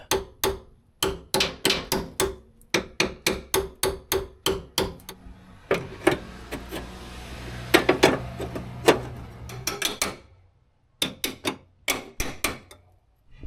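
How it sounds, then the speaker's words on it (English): Repeated sharp metallic hammer strikes on a Nissan Frontier truck bed bracket in quick bursts, loud and close, with brief pauses between rounds of blows. "I don't know if I can just hammer that to get it a little closer"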